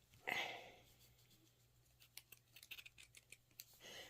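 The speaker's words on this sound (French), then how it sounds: "Et je vais mettre un petit coup de ciseau." Scissors snip water-soluble cross-stitch canvas close by: one crisp cut at first, then a quick run of small clicking snips near the end.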